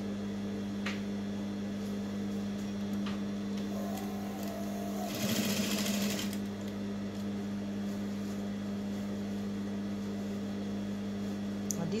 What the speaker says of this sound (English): Then I'm just going to keep sewing it through this point.